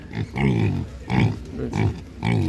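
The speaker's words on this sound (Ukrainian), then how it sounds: "Це така симпатична свинка залітка" Young pig with blue eyes grunting at a Ukrainian livestock market, a close, loud series of repeated grunts over about two seconds.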